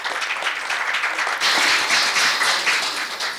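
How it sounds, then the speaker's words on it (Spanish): Steady applause from an audience at a documentary-film panel forum, greeting a panel speaker; the clapping swells noticeably louder partway through and continues strongly to the end. "Un aplauso para Andrés."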